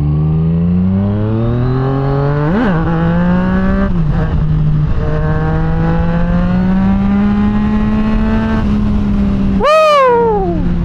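A Yamaha MT-09 motorcycle engine revs while riding, its pitch climbing and dropping through several gear shifts, closing with a sharp, loud rev spike near the end.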